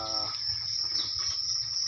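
Crickets raised for feed on a farm keep up a constant high, shrill chirring close at hand, with a short faint buzz at the very start.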